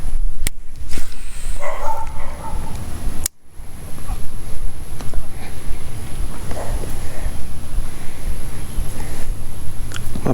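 A dog barks outdoors at a fishing spot on a riverbank or lakeshore, its barks mixed into steady wind and ambient rumble with some footsteps; no one speaks.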